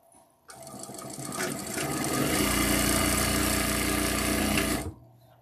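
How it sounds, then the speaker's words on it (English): A sewing machine stitches fabric in a steady, close whir that revs up quickly, holds a fast even hum for several seconds, then stops abruptly, with no talking over it. "we're going to sew one to the other side"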